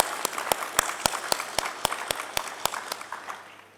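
Audience applause fills a keynote conference room, with dense clapping from a large crowd, sharp louder claps standing out at a steady beat, and the sound fading toward the end.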